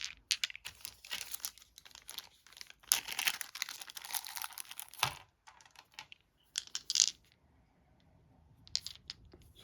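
Polyhedral dice (D20, D6, D8, D10 and D12) from the Conflicted board game are handled and rattled up close during an unboxing, giving irregular bursts of clicking and clattering with short pauses and no talk.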